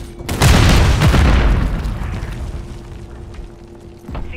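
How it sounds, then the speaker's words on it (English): A grenade blast in Call of Duty: Modern Warfare II multiplayer, one loud booming explosion with a deep rumbling tail that fades over several seconds, followed by faint game sounds. "Grenade!"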